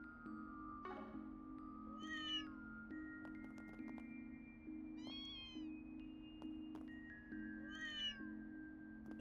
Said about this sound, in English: Aw, they're having a little party. Yeah, the cats in Old Town can be a little strange.